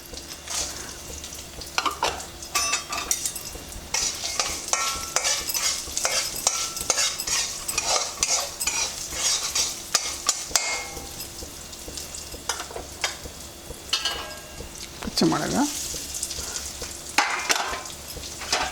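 Black urad dal, horse gram and peanuts roasting in a pan, with steady sizzling and repeated scraping stirs, the dry grains rattling against the metal; close and continuous, no voices.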